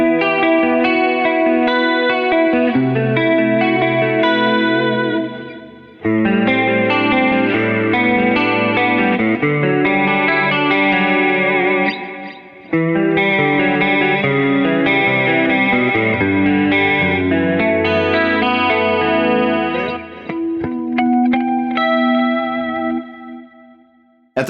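An electric guitar plays through a MESA/Boogie Mark IIC+ amplifier, giving a rich, driven tone with chords and melodic runs over about twenty-four seconds. The phrases are separated by brief breaks, and no one speaks.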